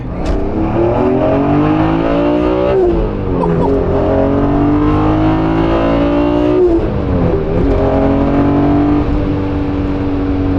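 A BMW M3 Touring with a stroker engine accelerates hard on a highway, its loud, continuous engine note climbing through rising gear sweeps with shifts around three and seven seconds, steady cabin road noise beneath.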